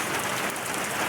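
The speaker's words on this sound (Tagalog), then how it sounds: "but the rain still exists" Heavy rain pours down in a dense, loud, continuous hiss with no pauses or voices.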